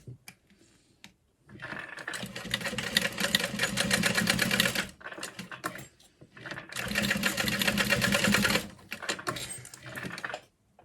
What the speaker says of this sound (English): And then I'm going to add 2 lines of stitching.